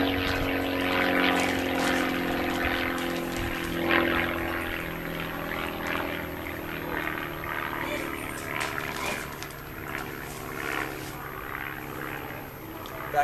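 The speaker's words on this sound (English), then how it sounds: "A lot of noise going on back here. Airplanes, people enjoying themselves." A propeller airplane passes high over a busy summertime backyard, its engine drone steady and moderately distant, heard under faint background voices and outdoor activity.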